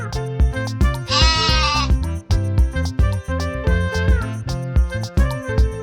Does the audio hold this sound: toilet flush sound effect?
no